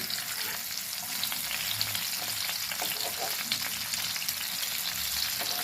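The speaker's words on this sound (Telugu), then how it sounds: "చూద్దామండి చేపలు ఎంతవరకు ఎగాయా ఇదిగోండి" Fish sizzles in a pan for a crispy, spicy street-style fish fry, a constant close hiss of hot oil with faint crackles and no talking.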